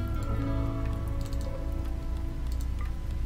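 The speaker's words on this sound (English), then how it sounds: "Aw, yeah, rain." Rain falls in the RimWorld video game, a steady patter of drops on surfaces under a sustained tonal background hum, with scattered light ticks throughout and no talking.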